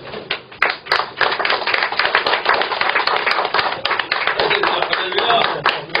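An outdoor audience at a national reform rally claps to welcome a pastor taking the stage for a lecture. The applause is loud, dense and sustained, with sharp individual claps standing out near the front.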